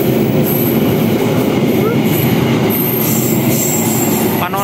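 A tourist train rolls along the railway track close by, a loud, steady rumble of wheels with a faint squeal of the rails running throughout.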